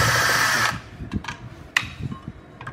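Power screwdriver gun unscrewing an amplifier, a loud close whine for under a second that cuts off, followed by scattered clicks and rattles of parts being handled.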